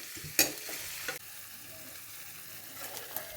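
Thinly sliced long onion strips fry in hot oil for a Nepali-style egg curry, giving a soft, steady sizzle broken by a few sharp clinks of stirring near the start.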